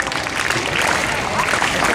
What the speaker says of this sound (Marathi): प्रति 3 जोरदार टाळ्या